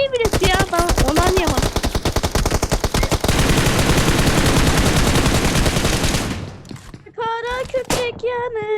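Rapid video game gunfire bursts out in dense, repeated cracks, building into a sustained loud fusillade before cutting off, with voices shouting over the shots at the start and end.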